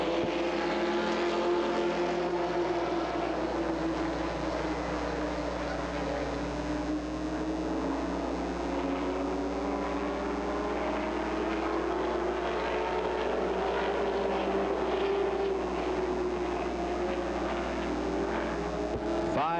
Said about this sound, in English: Timmy Hudson ready to wave the green to get us underway for the final 6 laps of the Iceman race.